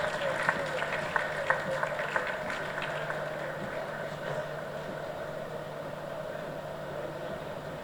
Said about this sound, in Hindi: दोस्तों तालियां बजनी रहनी चाहिए.